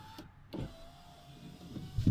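The electric window of a 2004 Ford Fiesta, fitted with a newly replaced regulator, runs with a steady, close motor whine lasting about a second and a half. Soft clunks mark its start and stop.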